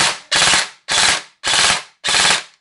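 A Bolt M16A4 AEG airsoft rifle with blowback recoil fires five rapid, evenly spaced bursts, each a loud close mechanical rattle of the cycling bolt separated by short silences.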